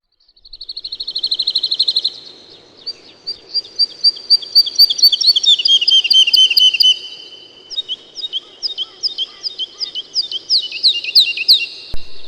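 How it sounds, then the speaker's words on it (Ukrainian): Birds chirp and tweet in quick repeated bursts of high, bright notes, several calls overlapping, clear and fairly close with a soft background hum. "цей високий звук від пташки."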